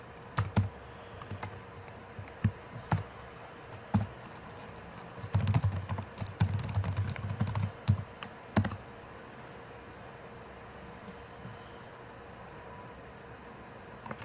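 Credentials being typed on a computer keyboard, with scattered single key clicks, then a dense burst of rapid typing, then silence over a steady background hiss, close with no talking.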